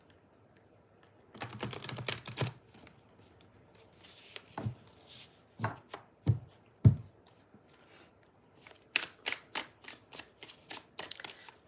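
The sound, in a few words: shuffling oracle card decks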